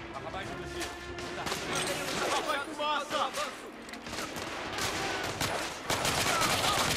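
Sustained gunfire from The Order: 1886, many sharp shots crackling in bursts with brief lulls, loud and close throughout while someone talks over the shooting.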